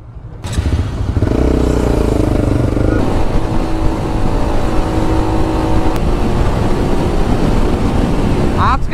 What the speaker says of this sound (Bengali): আজকে সেই পদ্মা ব্রিজের উপর দিয়ে বাইক চালিয়ে যাব